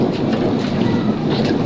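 Heavy summer rain pours down in a steady, loud wash of hiss and patter close by, with no talking.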